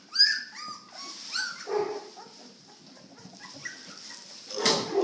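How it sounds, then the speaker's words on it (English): A Presa Canario dog whimpers and yips in short, high, rising cries, several whines in a row close by, ending with a louder burst of movement. "I'm telling my wife to let my male dog up."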